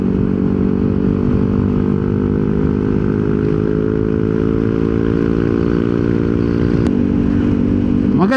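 A Yamaha NMAX scooter engine fitted with a Honda center spring runs continuously and loudly nearby, a steady buzzing drone with a slowly shifting pitch and a brief clatter near the end.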